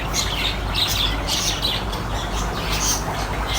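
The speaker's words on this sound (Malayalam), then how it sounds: "പ്രാവുകളും കേട്ടോ. പ്രാവുണ്ട്," Birds chirp and call in short repeated bursts nearby over a constant outdoor hum, with pigeons present among the flock.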